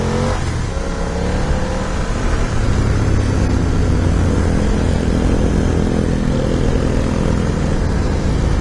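A BMW F 900 R streetfighter motorcycle engine roars steadily and loudly while the bike is being ridden, with a continuous near drone that stays strong throughout.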